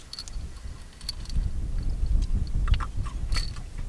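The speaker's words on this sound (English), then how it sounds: "You chew it up in your mouth, don't swallow it." Crunchy chewing of an edible mint-like toothpaste tablet, close to the mouth, with irregular biting and grinding sounds that build over a few seconds, alone without speech.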